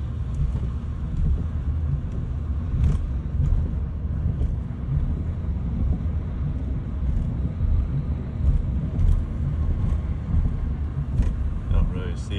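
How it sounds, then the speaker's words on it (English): A car passing along the beach road at South Beach, Bay St. Louis, Mississippi, during Hurricane Francine, its steady rumble blending into a constant roar of gusting wind buffeting the microphone, with no voices. "Here comes another car."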